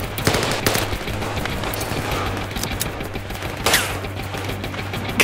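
Dense gunfire fills the Zero Caliber VR shooter game, with rapid overlapping shots and bursts forming a continuous loud fusillade and sharper cracks standing out now and then.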